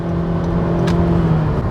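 A Honda Civic engine pulls steadily while accelerating toward highway speed, a sustained close drone with a faint whine rising slightly in pitch and no voices.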